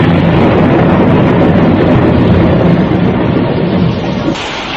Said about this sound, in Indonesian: Hujan yang turun gemersak seolah barisan prajurit segelar sepapan. Dan ledakan petir seolah panglimanya